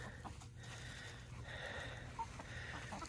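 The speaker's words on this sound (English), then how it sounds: "Them chickens are going crazy." Faint clucking of chickens in the background, scattered and restless, over a low steady hum.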